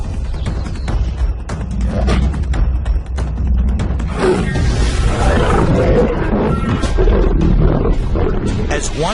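Wild lions roar in a documentary, deep repeated roars and growls that are loud and close, overlapping one another for the whole stretch with no pause.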